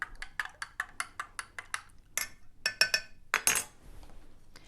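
A utensil clinks sharply and rhythmically against a bowl while chicken salad ingredients are mixed, a quick run of evenly spaced taps followed by a few irregular louder knocks, close and alone.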